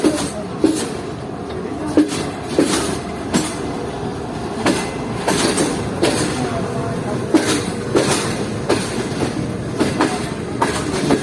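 On the opposite track at Khanewal Junction, the GU49011 goods train with super parcel wagons rolls past close by, steady rumbling broken by regular clickety-clack wheel beats over rail joints, with faint voices now and then.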